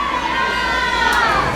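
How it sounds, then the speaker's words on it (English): Outdoor crowd noise at EPCOT, with a steady wash of voices and children shouting, swells into faint, distant cheering that stays continuous and fairly loud throughout. "Got a bit of cheering going on out there."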